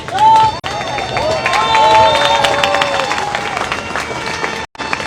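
A crowd at the Saint-Malo lock applauds and cheers steadily as an Ultim trimaran leaves, while an amplified announcer speaks over the clapping from start to finish.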